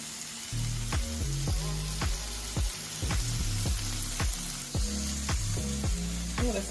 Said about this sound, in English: while the fries are cooking, I kind of leave them alone because if you toss them around too much in the skillet, they can start to fall apart